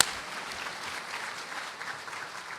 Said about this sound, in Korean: 함께 박수로 하나님께 영광 돌리겠습니다.